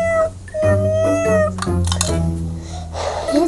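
A cat meows several times in quick succession, close and fairly loud, with brief overlapping voices and a rustling thump near the end.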